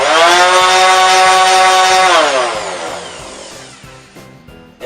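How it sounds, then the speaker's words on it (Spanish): A Parkside orbital sander working on a piece of wood gives a loud, close, steady motor whine that holds for about two seconds, then winds down and fades away as the machine stops. "Ahora también vamos a probarla con una madera, vamos a ver cómo lija."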